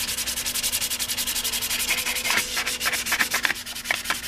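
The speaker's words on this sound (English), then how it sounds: "Now I can just dust sand it." Dust sanding on a motorcycle fairing, a Bimota part for an FZR restoration: a steady, rapid back-and-forth rasp of abrasive strokes, close and continuous, with a few sharper scratches toward the end.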